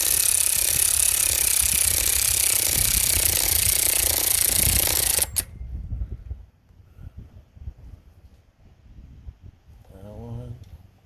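A loud, continuous air-tool rattle tightens the motor mount bolts on a 1972 Pontiac 350 and stops abruptly halfway through, followed by quieter shop noise and a brief voice near the end.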